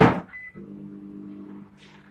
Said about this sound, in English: I'm just going to put my milk into the microwave.